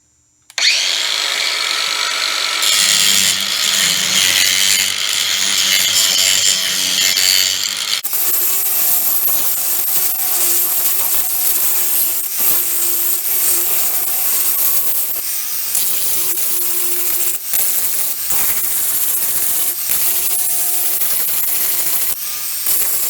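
A power grinder cuts into the aluminum housing of a clutch slave cylinder from an F-150 quick-connect delete, a loud, steady, continuous rasping whine held for over twenty seconds with slight shifts in pitch, alone without talk.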